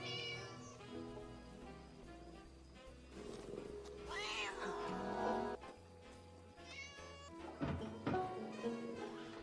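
Cartoon cat meowing amid a busy animated soundtrack, with music and sound effects layered around it; the meow rises clearly in the middle, fairly loud, with no talk.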